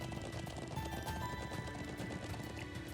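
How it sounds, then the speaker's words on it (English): Rapid hoof clops from a trotting horse in The Legend of Heroes: Trails into Reverie over a busy game soundscape, steady and continuous, with a faint whinny mixed in. "You be nice with Mr. Horse."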